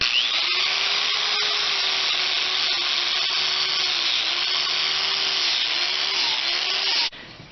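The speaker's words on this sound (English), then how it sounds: "after that I use a sander" A power sander whirs steadily at close range while it grinds rust off old tools, its hum wavering slightly as the pressure shifts, before it cuts off abruptly near the end.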